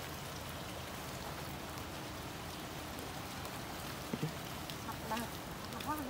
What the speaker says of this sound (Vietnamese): Ôi trời mưa mà.